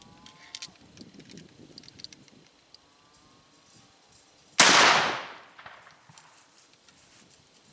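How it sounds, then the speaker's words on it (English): A single loud gunshot from a .45-55 Government black powder cartridge cracks out midway and then rings down, with quiet handling noises before and after. "I'm going to fire a 4th round."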